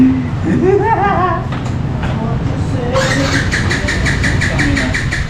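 A 2025 Suzuki Smash 115 motorcycle's small engine turns over and catches, then settles into a steady idle with a rhythmic pulsing, close by, with voices talking near the start.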